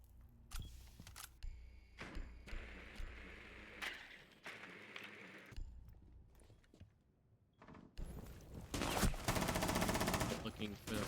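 Gunfire in Rainbow Six Siege during an esports grand final: bursts of automatic and single shots in sharp clusters, with a heavier sustained volley near the end. A commentator talks over the action.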